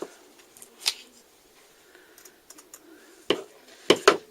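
Scissors snipping through paper mache material, a few sharp close cuts and rustles spaced out over quiet, with a quick pair of snips near the end.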